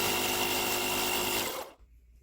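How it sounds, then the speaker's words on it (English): The air compressor of an AdoreTrip 12 volt jump starter runs with a close, steady buzzing drone for under two seconds, then stops abruptly. "And the compressor should go on like here."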